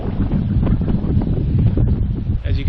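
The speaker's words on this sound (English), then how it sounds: "This wind is out of control." Strong wind blasting across an open island campsite during a canoe trip, a steady loud roar of gusts buffeting the microphone throughout.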